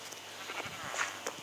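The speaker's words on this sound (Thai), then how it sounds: "มาเดี๋ยวนี้นะจับแกะ" Sheep in the Minecraft video game bleat in several short, quick calls, fairly faint and close together, with no talking over them.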